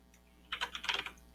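Quick burst of typing on a computer keyboard, roughly a half-dozen crisp, close key clicks packed into under a second, over quiet room hiss.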